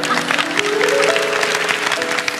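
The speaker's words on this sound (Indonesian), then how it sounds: "Kasih tepuk tangan." A church congregation bursts into loud applause during a sermon, with a dense wash of clapping across the whole stretch. Voices and sustained tones sound beneath it.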